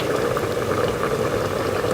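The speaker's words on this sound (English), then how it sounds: "now my rice is boiling" A pot of water for rice boils on a kitchen stove, a dense, steady bubbling and rumbling wash that stays even and close throughout, with no voices.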